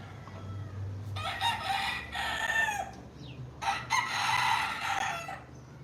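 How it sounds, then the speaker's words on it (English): Roosters crowing outdoors in an island setting, several loud drawn-out cock-a-doodle-doos in two bursts with a short gap, with faint clucking between and no talk. "I love hearing them roosters."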